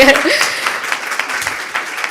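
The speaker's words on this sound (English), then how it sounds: "We need a clap just for that." Audience clapping during a talk at a women-in-tech event, a brief burst of applause heard under a loud speaking voice.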